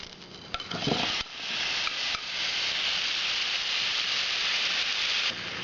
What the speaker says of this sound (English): While the pan's still hot, time to throw in the beef.